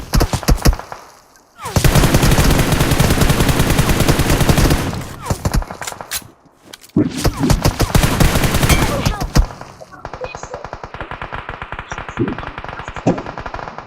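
Rapid bursts of automatic gunfire in a multiplayer shooter game, Kamishki, run in long loud volleys broken by brief gaps, ending in sparser single shots.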